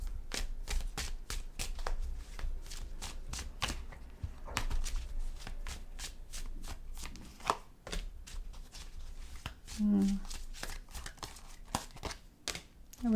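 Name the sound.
shuffling tarot cards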